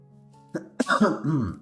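A couple of short, sharp coughs close to the mic, followed by a throaty, drawn-out vocal sound.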